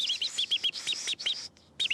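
A man imitating bird calls with his voice, repeated chirping whistles in quick bursts with a brief gap, close and fairly loud, no other talk.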